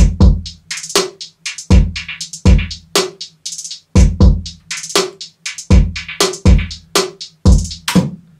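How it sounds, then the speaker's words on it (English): Layered hi-hat pattern in three parts played together: sparse, bouncy hits with quick rolls over a low bass-line hat part, steady rhythmic bursts throughout, loud and alone. "if you leave it like sparse, you can create some like really, really good like bouncy hi-hats"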